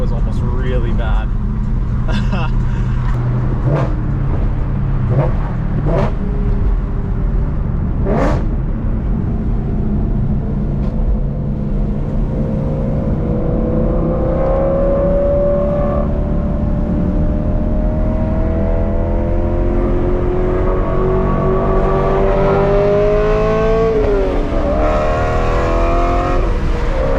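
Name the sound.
BMW E92 M3 engine accelerating while driving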